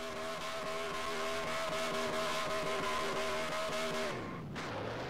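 A race truck in the Truxxin series at Mosport does a burnout: a loud, sustained engine roar at steady high revs that drops off sharply near the end.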